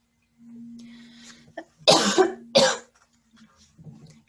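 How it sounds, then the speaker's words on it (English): A woman coughs twice sharply and close to the microphone during an online lecture, preceded by a faint hum and followed by small throat sounds in an otherwise quiet room. "I want to cough in your ear."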